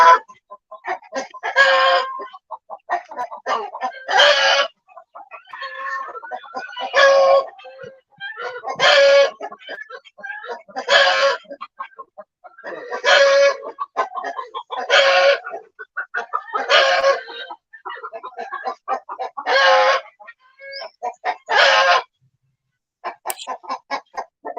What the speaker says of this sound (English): I'll silence my hens and come back